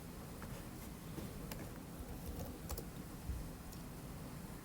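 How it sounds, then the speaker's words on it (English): Faint, sparse clicks from a computer keyboard being typed on, with scattered keystrokes in a quiet room. "If you heard the clicking on the keyboard"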